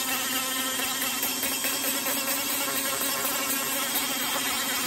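A power tool bit run back and forth over a wooden otter carving's tail to round over a corner, a continuous high-pitched whining grind at close range without pause.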